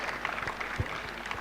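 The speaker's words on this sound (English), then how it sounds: "Big round of applause for both of them and all of them for the support." Audience applause at a WTA 125 women's tennis tournament in Mumbai, a brief spell of steady clapping with a few sharper claps standing out.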